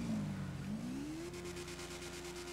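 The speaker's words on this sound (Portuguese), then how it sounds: "A moto tá funcionando de boa" A motorcycle engine idles and revs in GTA V, a steady buzzing drone that rises in pitch then holds a constant hum, moderately quiet with no talk.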